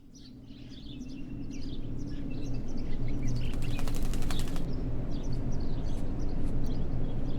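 A crow flapping its wings in the video game Martha Is Dead, a sustained fluttering whoosh that swells and stays loud, with a burst of rapid beats midway and scattered bird chirps over a steady low ambient bed.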